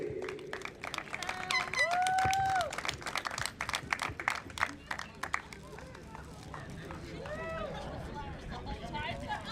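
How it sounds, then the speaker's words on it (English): A crowd claps for the Eagles baseball seniors on senior night at Norristown High School: scattered, sustained applause with a few whistles and cheers under ongoing talk. "One last round of applause for our Eagles seniors."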